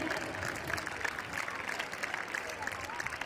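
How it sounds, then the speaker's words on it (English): Children at a school annual sports meet cheer and clap after a relay race, a dense, steady roar of applause and voices from a large crowd, with an announcer speaking over it. "A loud cheer, children."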